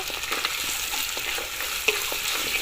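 River crab frying with purple cabbage in a pan, a steady close sizzle with light stirring scrapes and one sharp clink, moderately loud throughout, no talking.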